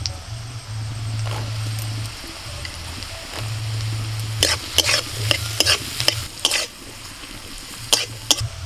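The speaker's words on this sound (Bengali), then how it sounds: "সমস্ত সবজিগুলোকে একটু হালকা করে ভেজে নিয়েছি, খুব বেশি কিন্তু ভাজা হবে না।" Green chillies and yellow and green capsicum frying in a pan for an egg manchurian, with a steady sizzle and a low hum, then a run of quick, sharp spatula scrapes and stirring clatters close by; no voices.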